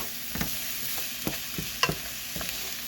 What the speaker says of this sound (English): You're supposed to saute this